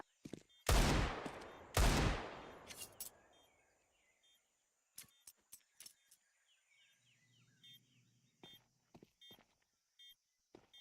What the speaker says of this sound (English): Prime Taps looking for those headshots with the Deagle